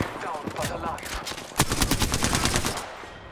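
Enemy gunfire in Apex Legends: a loud, sustained burst of rapid automatic shots, sparse clatter at first, then a dense rattling volley.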